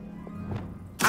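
A Depulso spell is cast in Hogwarts Legacy, giving a soft thunk midway and then a sharp bright burst right at the end of the short clip.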